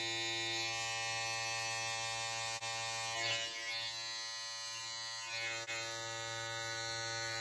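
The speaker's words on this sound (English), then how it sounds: "Once again, I'm going to grab my trimmer." An Andis electric hair trimmer runs with a steady, close buzz as it trims the nape of a boy's neck, holding an even tone throughout with only slight dips as it moves across the skin.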